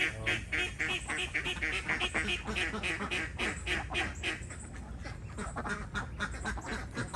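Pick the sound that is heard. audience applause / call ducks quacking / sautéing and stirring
call ducks quacking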